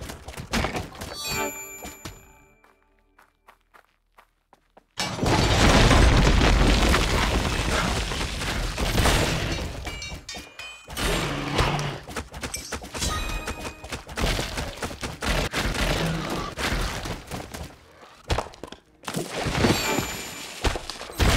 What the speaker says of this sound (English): The food was shot to pieces by the swift little elf.